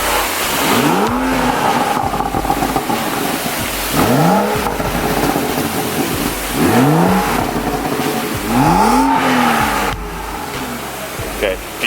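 BMW M235i engine revved repeatedly outdoors before a downpipe install, several sharp loud blips rising and falling in a rhythmic pattern, close to the listener.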